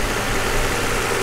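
A car with a 7.3-litre Pagani engine idles in a steady, dense broadband rumble with a deep low-end drone, loud and close, with no talk over it.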